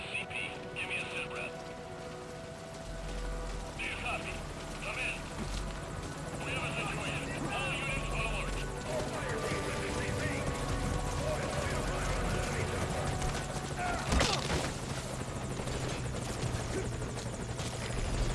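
Helicopter in the Metal Gear Solid V: Ground Zeroes game making a forced landing, its steady rotor drone continuous and loud throughout, mixed with rain and game sounds while voices talk over it.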